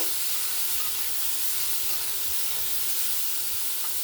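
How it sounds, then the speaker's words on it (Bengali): Spinach frying with turmeric and chili powder in a pan, a steady, even sizzle and hiss with faint stirring, close and continuous with no talking. "পরিমাণ মতন হলুদ আর একটু লঙ্কার গুঁড়ো দিয়ে আমি আবারও একে নেড়ে নেব"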